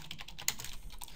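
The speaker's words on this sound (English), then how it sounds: "I'm trying really hard not to look at my keyboard when I type" Fingers tap a computer keyboard in a short burst of close, quick, uneven keystrokes with one sharper clack midway, without any voices.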